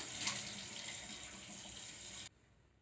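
Tap water runs steadily into a bathroom sink while face cleanser is rinsed off, a continuous close splashing hiss that cuts off abruptly near the end, leaving near silence.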